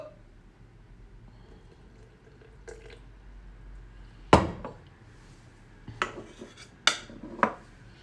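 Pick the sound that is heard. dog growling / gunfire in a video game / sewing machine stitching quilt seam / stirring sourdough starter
stirring sourdough starter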